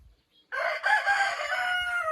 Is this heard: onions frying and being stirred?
no